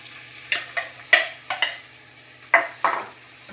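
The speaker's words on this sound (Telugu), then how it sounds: "నెక్స్ట్ మనం ముందుగా కోసి పెట్టుకున్న పచ్చిమిరపకాయలు, ఉల్లిపాయలు వేసేద్దాం." Chopped green chillies and onions going into hot oil in a pan, heard as a series of sharp, close clatters and brief sizzling bursts, about seven separate hits spread over a few seconds.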